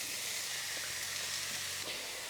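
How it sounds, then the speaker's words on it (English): Tomato ragu base for Sicilian meatball pasta sizzling in hot olive oil, a continuous crackling hiss with a faint low hum beneath, steady and close, with no voices. "I'll leave it to sizzle for a good couple of minutes"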